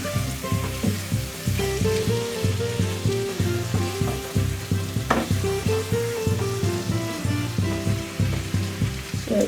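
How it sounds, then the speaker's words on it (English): Potatoes fried and stirred through a masala mixture in a pan, heard as a close, continuous sizzle with rhythmic scraping strokes of the spoon repeating throughout, and no voices. "I'm just going to add the potatoes in there. Just need to coat the masala mixture with the potatoes."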